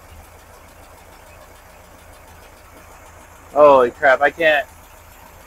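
A 1971 VW Super Beetle engine fitted with a MagnaFlow exhaust idles quietly as a low, steady hum, with a man's brief excited outburst breaking in near the end.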